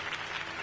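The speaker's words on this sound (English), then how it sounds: "If only Mr. Wayne, my campaign's largest backer, could have heard that applause" Crowd applause after a campaign speech in the Batman Telltale video game, a steady wash of clapping at moderate level with no pauses through the short burst.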